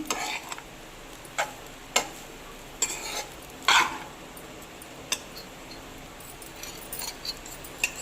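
Curry leaf rice stirred in a pan with a spoon, giving sparse scraping strokes and light taps at uneven intervals over a faint background sizzle, fairly quiet and with no voices.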